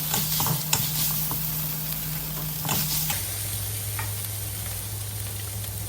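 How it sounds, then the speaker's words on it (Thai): Pork stir-frying with red chilies and long beans in a hot pan, giving a continuous close sizzle with brisk stirring scrapes and clatter throughout, no voices. "ใส่พริกแดงจินดาลงไปผัด"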